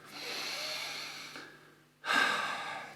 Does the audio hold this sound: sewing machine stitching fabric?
no